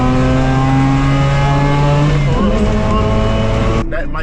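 A Mazda RX-8 engine on a dyno holds a high, steady rev, then shifts pitch and climbs again, loud and close, before cutting off abruptly near the end.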